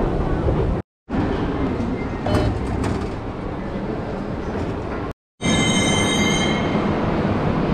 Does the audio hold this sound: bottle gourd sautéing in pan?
no